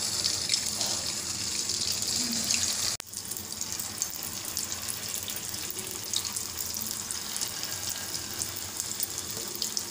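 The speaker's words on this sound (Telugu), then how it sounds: "బాగా వేడివేడి ఆయిల్లోకి ఇలా గరిటతోటి వేసుకోవచ్చు బోండాలని." Bonda batter frying in very hot oil, giving a steady close sizzling hiss that briefly cuts out and then resumes, with no talk.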